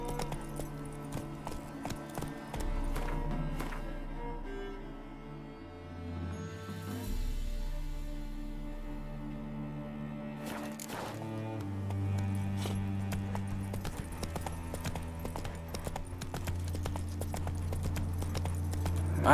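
Horse hooves clip-clop steadily in The Witcher 3 as the horse Roach trots, a rhythmic clatter set under an ongoing game music score with no one speaking.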